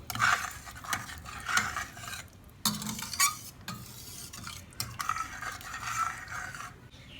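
A spoon scrapes and stirs through a pot of rice and lentils for sambar rice in a series of uneven strokes, with soft clinks against the metal and a faint sizzle underneath.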